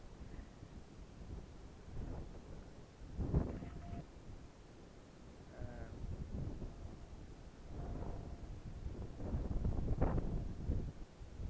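Outdoor wind buffeting the microphone in uneven gusts at a mountain resort in Mobo, Masbate, Philippines, low rumbling swells rising and falling, with a few faint voices in the background.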